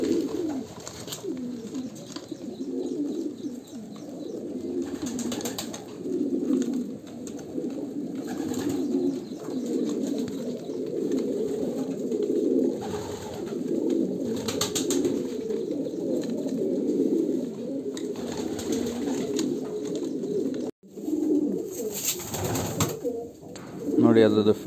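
Racing pigeons cooing in a loft at feeding time, a continuous layered chorus of throaty coos with occasional wing flutters, while someone talks over the birds.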